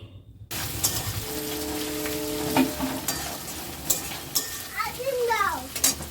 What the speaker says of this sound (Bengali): আরও ভালো করে টমেটো আর সাথে সমস্ত কিছু যা যা দিয়েছি আগে ভালো করে কষিয়ে নিতে হবে